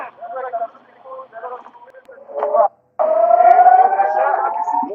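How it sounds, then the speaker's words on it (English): Rocket warning sirens wailing in southern Israel, a rising, wavering tone that cuts in and out over several seconds, heard through a broadcast-like feed with brief gaps between bursts. "More sirens going off right now in southern Israel."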